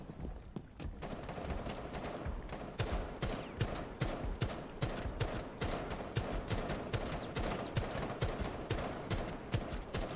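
A squad focus-firing an enemy in Rainbow Six Siege Outbreak, rapid sustained automatic gunfire with dense overlapping shots hammering steadily throughout, loud and close.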